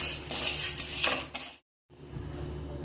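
Roasted chana dal and roasted gram for Iyengar milagai podi tipped out of a metal pan, a brief rattling clatter of dry grains on metal that stops suddenly, followed by a quiet, softer scrape.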